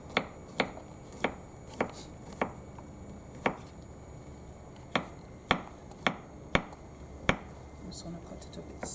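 A knife chops a garlic clove on a cutting board in a school kitchen while chicken and bacon carbonara is being made, giving about a dozen sharp, fairly evenly spaced taps with brief pauses and no talking.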